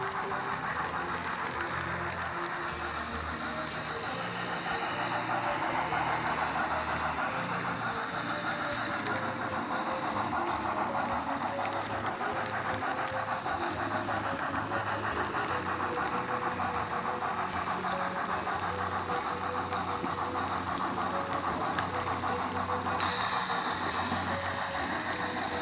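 A train climbing a 2% grade toward Highland and the Willow Creek mine, its engines a steady, loud drone with heavy low rumble and constant mechanical noise throughout.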